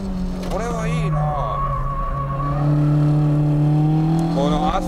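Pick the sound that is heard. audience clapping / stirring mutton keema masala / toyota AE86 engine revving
toyota AE86 engine revving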